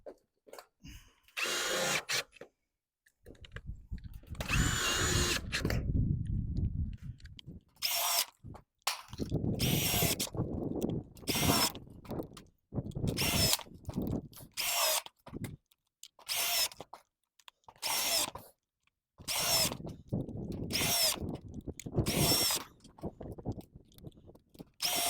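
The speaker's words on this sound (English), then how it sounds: "I'm going to start with a handful of screws, go after it." A Ridgid drywall screw gun drives a run of screws in short repeated bursts, each whirring spin separated by brief pauses, loud and close with no talking.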